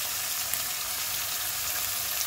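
Sliced onions fry in a pot for a fish biriyani, giving a dense, even sizzling hiss that stays loud and constant throughout, with no voices.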